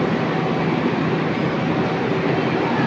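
Steady rumble and rattling hiss inside a carriage of the Gajah Wong executive train from Jakarta's Pasar Senen to Yogyakarta Lempuyangan, continuous and even throughout with no voices.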